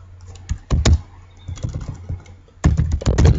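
Typing notes on a computer keyboard, quick clusters of close, crisp key clicks in irregular bursts separated by short pauses, with no talk.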